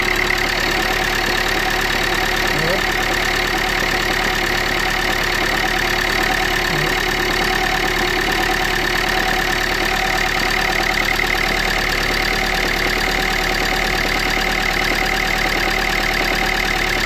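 A Renault Scénic 2 with the 1.5 dCi diesel engine runs steadily at idle after a timing belt job, a continuous even drone with a faint ticking clatter, close and unbroken for the whole stretch with no talk.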